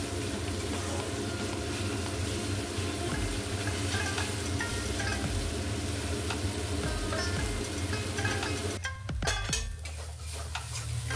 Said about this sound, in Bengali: আঁচটা বাড়িয়ে দিয়ে আরেকটু ভালো করে মশলাটাকে কষিয়ে নেব।